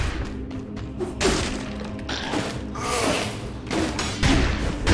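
Grenade explosions and combat impacts in the action game Dead Cells, a run of heavy thuds and crashing bursts arriving every second or so, with no talking.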